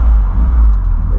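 Volkswagen Voyage GL with a carbureted engine, running loud and close with a deep, steady rumble and slight revving surges, no talk over it.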